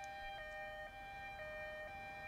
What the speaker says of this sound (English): And the siren's going off.